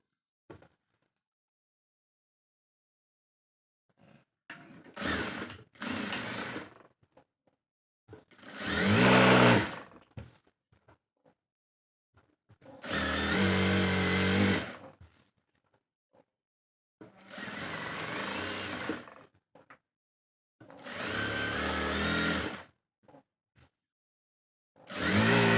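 A sewing machine stitches a hijab in several separate bursts, each run of fast mechanical whirring lasting one to three seconds, loud and close, with quiet pauses between them and no talking.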